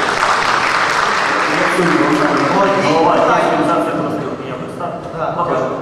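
Applause from an audience in a meeting hall, a steady patter of clapping that fades slightly toward the end, with voices talking over it.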